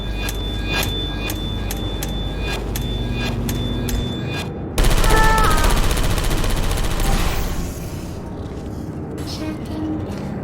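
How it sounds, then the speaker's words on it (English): Gunfire in the game Portal 2: a sudden loud burst of rapid shots breaks out midway, following a stretch of rhythmic clanking, with a voice speaking nearby. "look out for gunfire"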